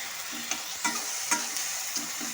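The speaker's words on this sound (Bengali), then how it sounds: "এখন আমি সমস্ত কিছুর সাথে ভালো মতো করে পেঁয়াজ রসুন সাথে ভালো মিশিয়ে নেব" Spices are stirred with onion and garlic in a frying pan, a spatula scraping in repeated strokes at an even pace over a constant soft sizzle, with no voices.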